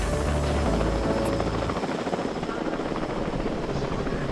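A transport helicopter in Jurassic World Evolution 2 carrying dinosaurs, its steady rotor thump and engine drone loud and close, filling the scene continuously.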